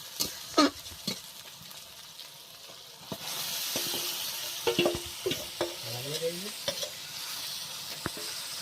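Meat tossed into a hot pan of frying onions and spices, sharp scraping stirs and clacks over a rising sizzle that holds steady after the meat goes in, with a faint voice in the background.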